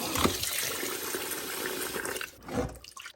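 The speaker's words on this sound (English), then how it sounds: "We're gonna add some cold water." Cold tap water poured onto drained pasta, a continuous rushing, splashing flow with a brief surge near the end before it cuts off.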